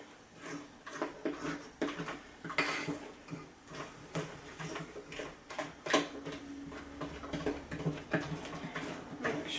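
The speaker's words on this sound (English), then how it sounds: "now I'm just going to combine my wet and dry ingredients" Wet and dry ingredients for paleo banana cake batter mixed in a bowl, with a steady rhythm of soft ticking and tapping strokes going on throughout.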